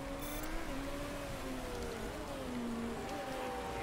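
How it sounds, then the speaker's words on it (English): Rain falls during a race in the Motorsport Manager video game, a steady, soft hiss that continues evenly throughout, with a faint engine whine running underneath. "It's already raining."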